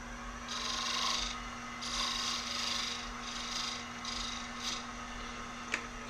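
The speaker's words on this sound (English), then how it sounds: "I'm going to bevel the edge here on this particular one a little bit." Beveling and rounding the edge of a wooden pen finial on a lathe, a steady scraping rasp that swells and eases in several passes over a constant motor hum, with one sharp tick near the end.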